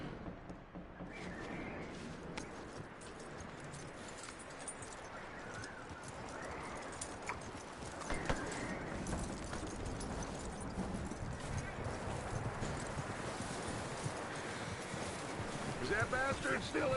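Horse hooves clip-clopping at a steady walking pace in Red Dead Redemption 2, with game ambience and occasional birds, under a voice talking.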